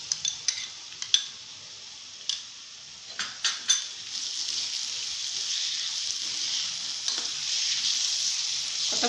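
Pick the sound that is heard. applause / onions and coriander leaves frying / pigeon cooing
onions and coriander leaves frying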